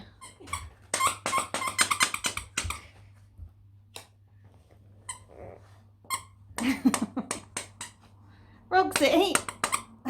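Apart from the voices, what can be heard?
dog's squeaky toy squeaking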